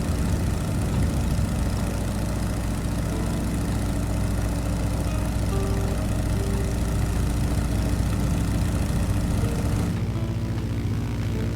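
Steady drone of a BN-2 Islander twin-prop aircraft engine climbing slowly in Microsoft Flight Simulator, a loud continuous propeller hum and rumble that changes tone near the end.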